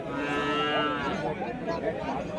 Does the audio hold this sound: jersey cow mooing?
yes